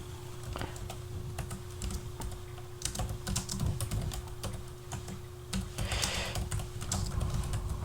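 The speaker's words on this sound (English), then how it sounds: "I'm sorry if the keyboard is like really loud." A computer keyboard clatters with quick, irregular bursts of keystrokes, close and fairly quiet, with brief pauses between runs of typing and no talk over it.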